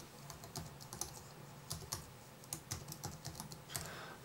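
Someone types on a computer keyboard while entering a domain name in ArcGIS, tapping out quick, irregular clusters of close, crisp keystrokes with short pauses between them.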